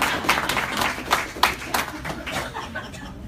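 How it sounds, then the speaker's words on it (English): An audience at a live training session in Atlanta gives a round of applause, scattered distinct claps at first that thin out and fade toward the end, with a little laughter mixed in. "Give him a round of applause."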